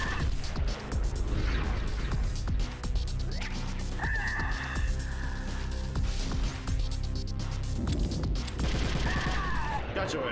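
FAMAS rifle fire in Metal Gear Solid: The Twin Snakes comes as rapid bursts of gunshots mixed with game music and crashing effects, loud and sustained across the whole stretch.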